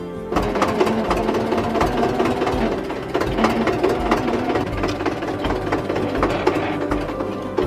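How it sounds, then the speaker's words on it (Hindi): A newly bought motorcycle engine runs steadily nearby, a dense rattling idle with rapid regular pulses and constant loudness, no talk. "परमात्मा ने इतनी दया कर दी कि अपने आज मोटरसाइकिल ले ली।"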